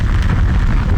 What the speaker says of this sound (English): The book is on fire.